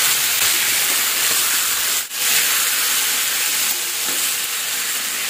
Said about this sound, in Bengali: বেশ ভালো করে পনিরগুলোর সাথে মশলাগুলো মাখাবো নেড়ে চেড়ে।